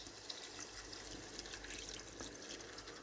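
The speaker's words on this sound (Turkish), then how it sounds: "Su ilave ediyoruz." Water pours steadily into a pot of rice, a faint continuous splashing trickle with no talk.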